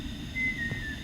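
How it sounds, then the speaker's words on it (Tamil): A short thin whistle sounds within the horror video game Cursed Tape, a single faint sustained tone over a low steady background hum, with no speech. "ஒன்றும் விசில் அடிக்கியா?"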